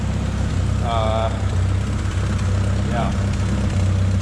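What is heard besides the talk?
turbo Honda D16 engine idling with noisy exhaust leak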